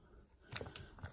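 Scissors cutting through material, a few crisp snips in quick succession, close and fairly quiet against a near-silent background, with no talking.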